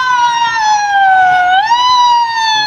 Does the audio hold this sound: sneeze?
no